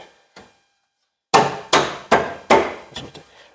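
A hammer taps a steel gas tank cross member into place on a 2011 Ford Super Duty, with a faint early knock and then four sharp, ringing metallic strikes followed by lighter taps.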